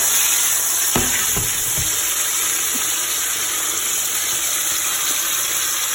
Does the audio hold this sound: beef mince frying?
yes